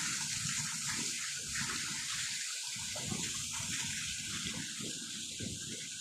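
Water flows and gushes steadily outdoors, a continuous rushing wash with low churning underneath, heard close and unbroken throughout.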